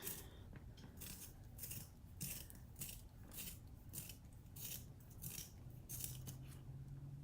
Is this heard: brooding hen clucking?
no